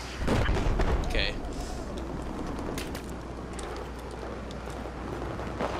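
Gunfire and explosions from a Battlefield 4 multiplayer match, with a heavy boom early on followed by a dense, continuous rumble of distant shooting and scattered sharp reports.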